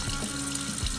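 Running water from a kitchen tap flows steadily over cucumbers as they are scrubbed with a vegetable brush, close and continuous with no talking.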